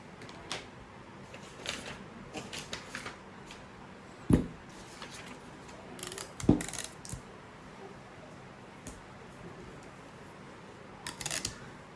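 Scissors cut out fabric for a Myanmar jacket with an overlapping front flap, a series of soft, close snips and rustles with a couple of sharper metallic clacks, and no talk.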